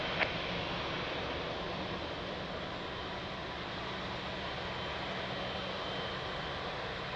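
A jet aircraft at Lisbon Airport gives a loud, steady, broadband roar that holds unbroken throughout, with no voices over it.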